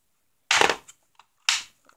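An electric airsoft G36 C rifle fires single shots in semi-automatic mode, giving two sharp, close, loud snaps about a second apart, each with a short mechanical rattle and faint clicks between them.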